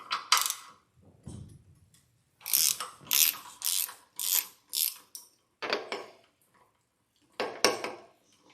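Socket ratchet on a 14 mm bolt of a 200 HP Yamaha outboard motor, clicking in several quick bursts of pawl ratcheting separated by short pauses, close and fairly loud with no talk.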